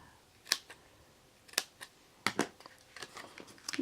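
Several short crisp snips of scissors cutting a strip of scrapbook adhesive into pieces, close and isolated against near silence, in quick irregular bursts.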